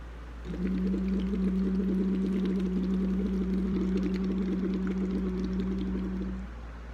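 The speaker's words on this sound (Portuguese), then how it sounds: "vai soprar fazendo um som de U e o ar vai sair dentro da garrafinha" Steady bubbling as air is blown through a tube into a water bottle during a vocal warm-up, a continuous hum-like burble lasting about six seconds, close and alone.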